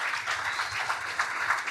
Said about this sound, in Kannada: ಆ ಸಮೀಕ್ಷೆ ಮಾಡಿದ ಪ್ರತಿಯೊಬ್ಬರಿಗೂ ಒಂದು ದೊಡ್ಡ ಚಪ್ಪಾಳೆ